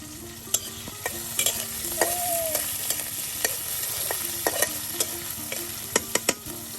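Chopped green chillies, onion and garlic frying together in hot oil in a village kitchen, a dense steady sizzle with sharp irregular clicks and scrapes of stirring against the pan, close up and without speech.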